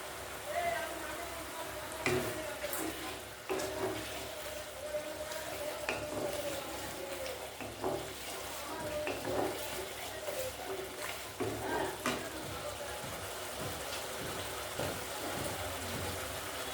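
Spices and chili powder fry in oil with a soft, continuous sizzle and occasional stirring scrapes, fairly faint and close.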